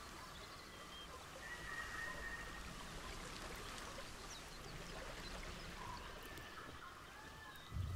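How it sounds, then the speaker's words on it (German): A large zoo waterfall rushes in a steady, broad wash of falling water that continues without break, with faint bird calls scattered above it and no talking. "Ein riesiger Wasserfall."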